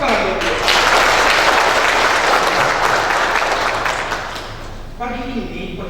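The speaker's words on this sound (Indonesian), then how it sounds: "Tepuk tangan dulu." A roomful of attendees at a community forum training session bursts into loud, dense applause that holds strong, thins out toward the end, and gives way to a voice speaking.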